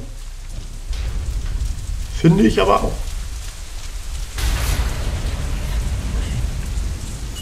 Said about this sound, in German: Das Wetter scheint auch nicht besser zu werden. Verdammter Sturm.